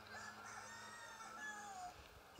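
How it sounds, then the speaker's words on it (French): A rooster crows faintly in the distance, a drawn-out call rising and falling over steady background hum. "Mais les coqs, quelle arrogance. Ils chantent n'importe quand ici."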